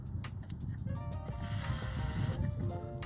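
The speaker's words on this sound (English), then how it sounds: "all you need is some WD-40, and you're going to give it a pretty generous spray" A steady hissing spray of WD-40 from an aerosol can, close up, while installing an aftermarket exhaust on a 2023 Chevrolet Colorado, over a mechanical background rumble with faint clicking.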